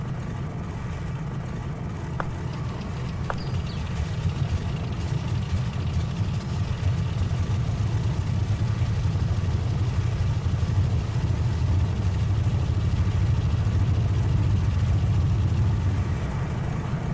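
Twin radial engines of a Carenado Beechcraft D18S idling during warm-up in the Prepar3D flight simulator, a steady low rumbling drone that swells slightly louder over time, with no voices.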